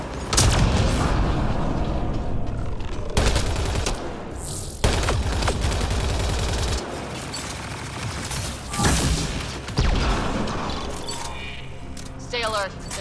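Gunfire in the Mass Effect Andromeda video game: loud rapid bursts of shots and heavy booms rattle on and off throughout, with a voice talking over the combat.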